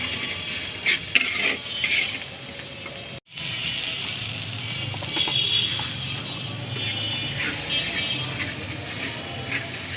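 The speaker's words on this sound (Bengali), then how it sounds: "হলুদ, মরিচের গুঁড়া, জিরা ধনিয়ার ফাঁকি দিয়ে আমি নেড়ে নিব ভালোভাবে।" Turmeric, chili, cumin and coriander powders being stirred in an oiled pan, a steady close sizzle with scraping spatula strokes and a brief pause; soft bird cooing sounds faintly in the background.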